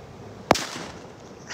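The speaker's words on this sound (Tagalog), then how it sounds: "papaputok ako ulit" A single firecracker goes off with one sharp, loud bang, followed by faint ambient background and no further blasts.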